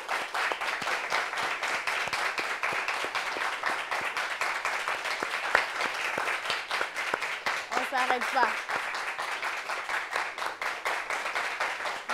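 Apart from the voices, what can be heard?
audience applauding a TV show guest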